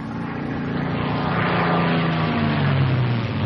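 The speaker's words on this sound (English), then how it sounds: "Plane gains speed extremely fast in a dive." A P-51 Mustang propeller fighter dives. Its engine gives a loud, steady roar that rises and falls in pitch as it gains speed, with no talking.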